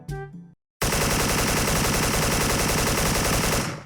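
Rapid automatic fire from a gun in the video game Special Force 2, a loud, dense, unbroken burst lasting several seconds after a short lead-in and a brief silence.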